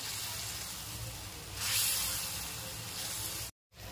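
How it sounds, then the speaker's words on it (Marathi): Steady sizzling and hissing from a hot iron pan cooking dried Bombay duck fish and chilli chutney, swelling louder for a moment midway, then cutting off briefly near the end. "आता आपण छान लोखंडी तव्यामध्ये शिजवून घेऊया"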